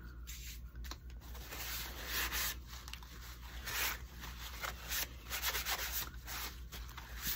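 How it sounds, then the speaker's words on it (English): Sandpaper on a finger sander scuffing a painted piece: quick uneven rubbing strokes, close and fairly soft, continuous with brief pauses and no speech. "it was a piece of sandpaper that goes on the finger sander"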